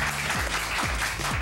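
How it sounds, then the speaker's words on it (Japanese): Studio audience applauding on a Japanese TV show as a special guest lecturer is introduced, a steady dense patter of clapping that fills the short moment, with a little music or sliding tones underneath. "皆さん拍手。"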